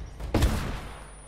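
A single sharp gunshot in the PS4 remaster of Uncharted: Drake's Fortune, loud and close with a short decaying tail, no voices.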